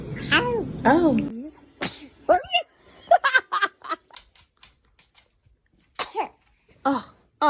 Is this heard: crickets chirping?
no